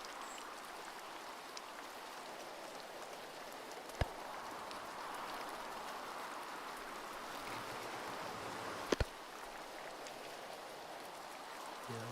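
Steady rain falling during a storm at sea in the sailing game Sailwind, a soft continuous hiss of drops heard alone, with two sharp brief knocks standing out partway through.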